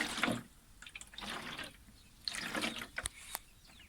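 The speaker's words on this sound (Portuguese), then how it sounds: "Acho que dá para ouvir a água correr, né?" Water sloshing and trickling inside an Indesit/Hotpoint clothes dryer, heard as irregular swells of liquid noise with a few sharp drips and clicks, moderately faint.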